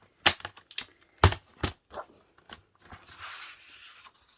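Paper being cut on a blade trimmer, a series of sharp close clicks and snaps followed by a soft drawn-out slicing swish, quiet room with no talking.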